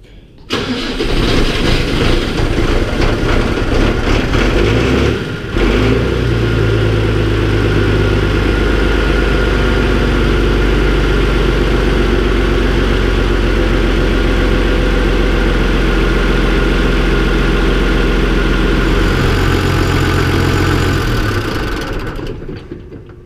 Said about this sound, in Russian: Двигатель, в принципе, готов. Давайте будем пробовать запускать.